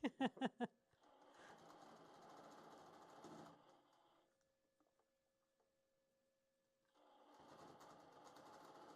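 Longarm quilting machine stitching in the ditch on a quilt, a steady close mechanical whir with a rapid needle rattle that runs, stops into near silence, then starts again, preceded by a few sharp clicks.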